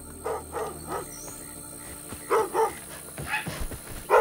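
A dog in the video game South of Midnight barks in a string of short, sharp yips spaced across a few seconds, fairly close, with no talking.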